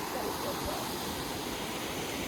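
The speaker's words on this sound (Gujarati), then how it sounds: "અહીંયા ઝરણા જેવું છે આખું અને પાણીનો સેલાબ આખો વાં જાય છે" Water rushing in a stream-like flow below a dam, a steady broadband roar without pause, moderately faint and continuous.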